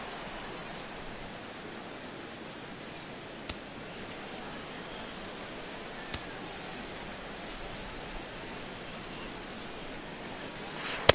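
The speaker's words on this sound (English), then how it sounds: "the rain is really starting to come down" Heavy rain falls across Nationals Park in Washington, D.C. during an MLB All-Star Game, a continuous broad, soft wash of noise, with a few sharp isolated clicks and taps.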